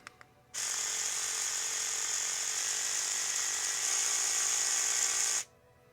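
A DSPIAE reciprocating sander is switched on and runs with a steady, loud high-pitched buzz for about five seconds, stepping up slightly in pitch and level near the end as the speed is raised, then cuts off.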